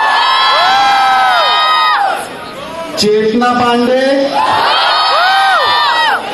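A college crowd at Arya College cheers and screams during a promotional tour for a TV show, with loud whoops and high shrieks rising and falling. A voice speaks briefly in the middle.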